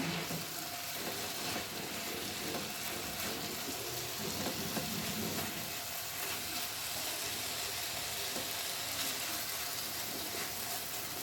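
Winter vegetable bhaji sizzles steadily in a pan, an even hissing fry with soft crackles throughout, close and constant.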